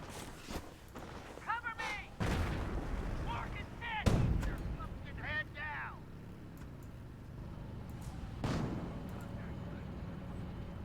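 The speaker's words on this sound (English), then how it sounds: "Oh, there it goes. It was incendiary mortar." An incendiary mortar barrage in Company of Heroes lands as several distant booms and crackling impacts, heard under ongoing battle noise and occasional voices.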